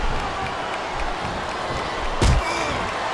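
A virtual arena crowd cheers in the PS2 wrestling game WWE Smackdown vs Raw 2007, a steady roar of noise with a sharp, loud slam or impact burst near the end.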